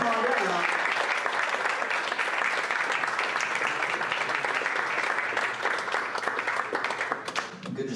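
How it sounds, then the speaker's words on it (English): An audience at a student show gives a sustained round of applause for a 17-year-old pianist, thick steady clapping that carries on for several seconds with a few voices murmuring beneath. "please give a nice round of applause to the dedicated and caring Ethan Pauly"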